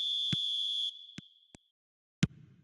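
A referee's whistle in an eFootball video game match: one long steady blast under a second, followed by a short second blast and brief clicks, then a sharp hit and faint crowd murmur.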